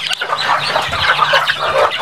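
Chickens on a farm cluck and chatter continuously, several birds close by with overlapping calls and a brief crowing note, fairly loud and with no talking.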